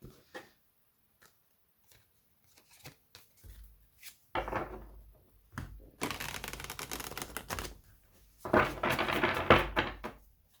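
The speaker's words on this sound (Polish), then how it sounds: "Przetasuję jeszcze tego tarota." A tarot card deck is shuffled, with scattered soft taps and rustles leading into longer riffling bursts of cards, quiet and close with pauses between.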